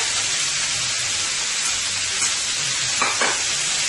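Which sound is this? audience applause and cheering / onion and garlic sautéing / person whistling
onion and garlic sautéing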